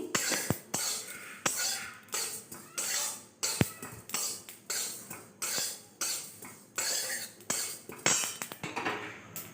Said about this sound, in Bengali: এরপর হালকা করে মৌরিটুকু ভেজে নেব